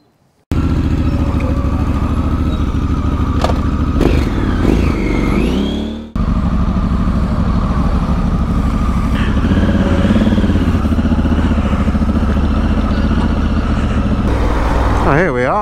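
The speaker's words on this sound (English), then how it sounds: "You don't often see a Harley with a big old chain drive." An old Harley-Davidson motorcycle with a big chain drive rumbles loudly and steadily close by, its engine running continuously with a brief dip partway through, while people talk faintly in the background.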